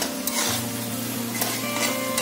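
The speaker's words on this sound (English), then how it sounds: "yeah, you're frying it, it needs to get more fried." Chicken curry sizzles steadily in a hot pan while a utensil stirs it, with close scraping strokes over continuous frying hiss and no talking.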